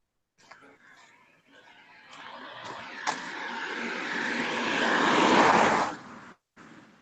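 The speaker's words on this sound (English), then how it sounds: "Is that an airplane or something?" An airplane passes overhead outside, heard through a window: a broad engine roar swells gradually, peaks, then cuts away, with voices talking underneath.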